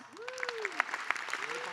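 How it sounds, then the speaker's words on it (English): Applause from an audience for the singers at an Indigenous graduation celebration, light clapping with scattered individual claps, under a voice speaking with rising and falling pitch. "Let's give singers a big round of applause."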